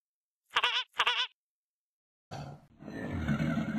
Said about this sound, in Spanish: Es el cocodrilo, Pepa.